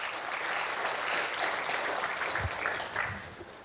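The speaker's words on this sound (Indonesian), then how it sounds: "Tepuk tangan." An audience of university students at a mascot and logo launch applauds with a dense, moderately loud burst of clapping that stays steady, then eases slightly at the close.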